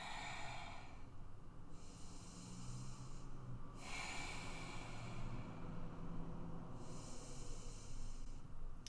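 During a held yoga pose, slow, deep breaths rush in and out through the nose, faint and close, with about three full breath cycles over a soft, steady background noise.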